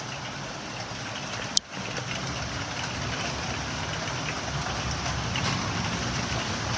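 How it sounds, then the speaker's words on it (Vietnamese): Dense, continuous hiss of heavy rain pouring down during a thunderstorm in Hanoi, steady and fairly close, with a single sharp click partway through. "mưa rất là to luôn ạ."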